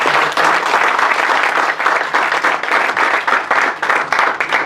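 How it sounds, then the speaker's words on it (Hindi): Loud, dense applause from an audience clapping for Anand sir at a motivational startup talk, a full, continuous roar of many hands that holds strong throughout with slight swells and no voices on top. "इसलिए एक बार बहुत अच्छे से तालियां बजाते हैं।"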